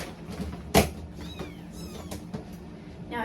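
A young kitten gives several short, high meows spread over a few seconds, close by, alongside a sharp knock or cupboard-like bump near the start and faint household background, with no one talking.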